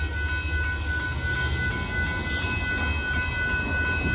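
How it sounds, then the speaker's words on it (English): A Union Pacific gravel hopper freight train, with several locomotives in front and two at the rear, rumbles past nearby: a continuous loud low roar with steady mechanical noise and a faint high whine throughout. "There goes the Union Pacific gravel hopper car train with a few engines in the front and two in the back"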